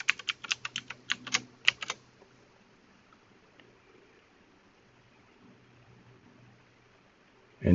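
Credentials are typed on a computer keyboard in a quick burst of about a dozen close, crisp key clicks lasting about two seconds, followed by a near-silent pause.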